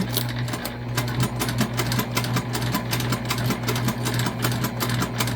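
A sewing machine stitches a seam for a heart-shaped fabric project, giving a continuous close, fast, even mechanical whir with a steady rapid ticking pulse throughout and no voices.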